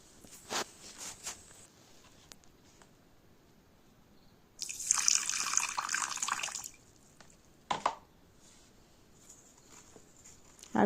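Water is poured onto tamarind and sugar in a bowl to make chutney, a single short splashing pour of about two seconds, close, with scattered clicks and taps of kitchen handling around it.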